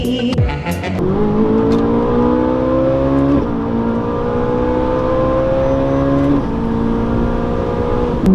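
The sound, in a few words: Ferrari 458 Italia engine revving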